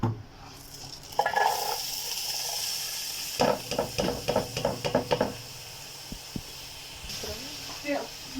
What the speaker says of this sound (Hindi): 1 कप ऑयल डाल के इसमें प्याज डालते हैं।